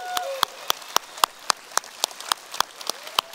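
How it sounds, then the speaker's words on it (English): Clapping at a Sunday church service for military members: evenly spaced, sharp claps, about four per second, fairly close and steady with no voices over them. "Can we give them a big hand?"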